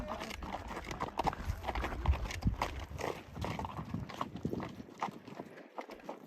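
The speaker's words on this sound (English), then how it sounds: "the bay horse in the middle" A bay horse walks on an endurance ride trail, its hooves clip-clopping in a steady, fairly close rhythm along with soft rustle and faint background noise, with no speech over it.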